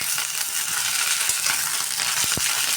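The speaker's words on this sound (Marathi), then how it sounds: "थोडंसं तेल गरम झालं की त्याच्यामध्ये आपल्याला ह्या शेंगा टाकायच्या." Drumstick pods fry in a pan of hot oil over lowered heat, giving a steady close sizzle with scattered crackles and a couple of sharp pops.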